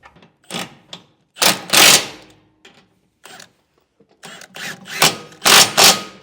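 Ratchet with a 19mm socket tightening nuts while installing a Lippert Ground Control 3.0 electric leveling kit on a 2022 Forest River RV, giving loud, irregular bursts of clicking and metallic clatter separated by short pauses, with no talking.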